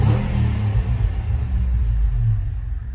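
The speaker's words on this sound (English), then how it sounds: "let's give it a rev" Supercharged 4.2-litre V8 of a 2007 Project Kahn Range Rover Sport L320 revving loudly and close, a deep sustained rumble that swells and eases over a few seconds.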